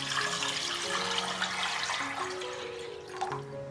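Water pours into a clay pot holding beef bones and ginger slices for soup, a continuous splashing gurgle whose pitch rises as the pot fills, close and moderately quiet, with no talk.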